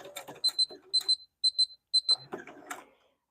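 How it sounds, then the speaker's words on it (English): A sewing machine beeps in quick high-pitched pairs, four double beeps in a row, with faint rustling and handling noise around them. "this machine beeping. Beeping, beeping, beeping."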